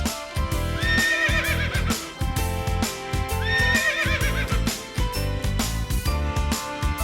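A horse whinnies loudly twice in high, wavering neighs, with a steady clip-clop of hooves and other farmyard noise running underneath.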